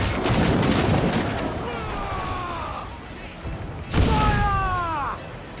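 Ship cannons firing in Assassin's Creed 4 Black Flag, a rumbling opening volley followed by one sharp loud cannon boom near the end, with voices calling out between shots.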